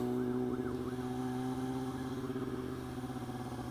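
An ambulance siren wails with a rising and falling tone through steady engine rumble on a city street at night, loud and continuous, with no talk.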